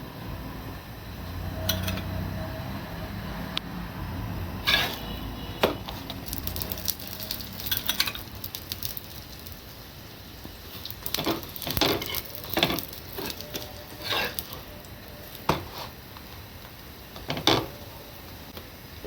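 Porota frying in oil in a pan, a steady close sizzle broken by repeated scraping and knocking of a spatula turning the flatbread.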